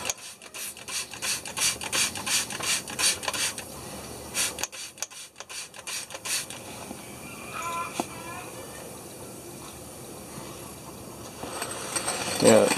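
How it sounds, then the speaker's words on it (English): Quick repeated hissing spritzes from a trigger spray bottle of leak-check liquid on a 1976 Detroit Diesel fire truck's air system, in a steady rhythm, close by, then quieter rustling with people talking nearby. "We're just gonna spray it."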